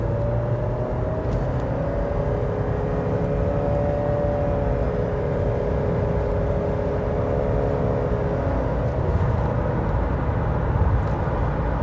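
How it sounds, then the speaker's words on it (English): A 2020 Honda CR-V Hybrid Touring AWD's Atkinson cycle gasoline engine revs steadily while the car accelerates, a continuous droning hum with rising and falling tone under road noise, heard from inside the cabin. "you can hear the Atkinson cycle engine really rev up there"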